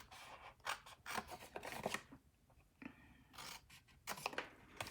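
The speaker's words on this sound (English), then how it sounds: "That's where we cut with our scissors." Scissors cut through a paper box panel with a series of close, crisp snips and rasping slices that come in uneven bursts with brief quiet gaps between them.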